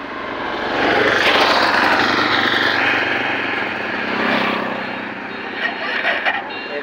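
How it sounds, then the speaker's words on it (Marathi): A Hero Super Splendor BS6 motorcycle engine keeps running after the key is removed, a steady, loud mechanical drone with a talking voice over it throughout. "चाबी काढलेली आहे तरी इंजिनचा आवाज बघा."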